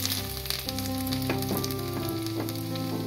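Garlic dropped into hot oil sizzles steadily in a pan over a low flame, a constant close crackle with a few stirring clinks and a faint hum underneath.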